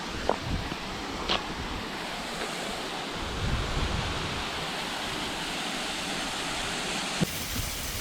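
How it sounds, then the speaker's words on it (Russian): Shum, the first of the Rufabgo waterfalls, gives a continuous broadband rushing roar, heard close and steady, with buffeting wind on the microphone and a few brief knocks. "Приехали на водопад. Это первый водопад. Называется Шум."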